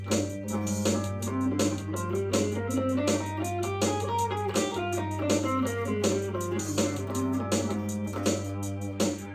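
A melodic guitar line wanders through the dark, exotic-sounding G Phrygian mode over a steady sustained bass drone, played continuously with light effects.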